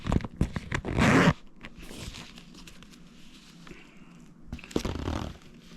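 A zipper on a folder of Star Wars Armada upgrade cards is drawn open with a loud rasping pull, followed by rustling and handling of the folder and another zip-like rasp near the end, close up with no talking.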